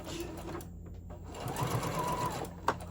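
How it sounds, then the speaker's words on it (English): A sewing machine stitches a fabric tote bag, a close, steady mechanical whir running continuously for a few seconds with a brief click near the end. "I'm going to do a back stitch again, and then I'm going to sew right off the end"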